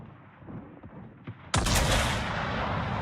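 A broadside of naval guns erupts partway through, a loud sudden blast with a long rumbling roar after, preceded by faint distant thumps of ship gunfire in a World of Warships battle.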